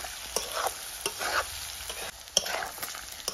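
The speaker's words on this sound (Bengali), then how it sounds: "এতিয়া ভালকৈ ভাজি লগাইছোঁ আকৌ এবাৰ" Chicken meat frying in a pan while being stirred, a soft continuous sizzle broken by repeated scraping strokes and a few sharp clinks of the utensil against the pan, nearby and moderately quiet, with no speech.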